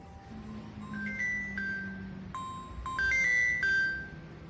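A phone ringtone plays a few bright electronic tones in short repeating phrases over a low hum, moderately close.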